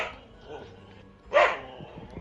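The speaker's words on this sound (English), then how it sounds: "If you heard the puppy growl," A puppy gives a single sharp, close bark after a stretch of low background noise, with a voice speaking nearby.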